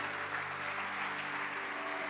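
Congregation applauding in a church service, a steady wash of clapping that holds evenly, fairly faint, with a low hum beneath.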